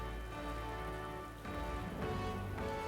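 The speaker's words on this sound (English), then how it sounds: "It's still raining, huh?" Rain falls steadily in the video game Metaphor, a constant close hiss layered over sustained tonal background sound, with no talking.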